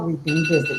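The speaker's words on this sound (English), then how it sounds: "that's my alarm" Phone alarm ringing with steady high tones under a man's speech, close and moderately loud.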